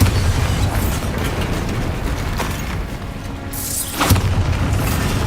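A Bombarda spell blasts in the video game Hogwarts Legacy, a heavy low booming explosion with a sharp crack near the end and a dense rumble throughout, loud and close, no talking.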